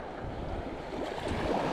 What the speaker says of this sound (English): Bit of a chop on the water